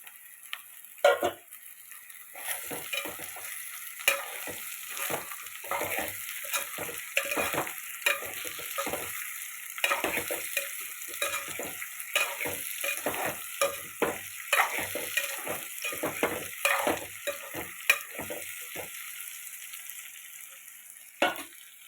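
Potatoes added to fried onions in a pan on a gas stove sizzle steadily while a spoon stirs them in quick, repeated scraping strokes, close and clear with no talking.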